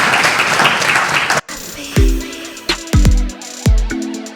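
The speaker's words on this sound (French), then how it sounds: "On va applaudir tous ces gens pour..." Applause from a studio audience on a French-language café-style talk show, a dense broadband clatter for about a second and a half that cuts off abruptly, followed by quieter studio sounds with low thumps and tonal bits.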